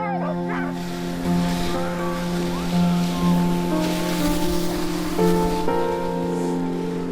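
Sled dogs bark, yip and whimper in an outdoor dog yard in Montana, a steady chorus of overlapping calls at moderate distance with constant background noise.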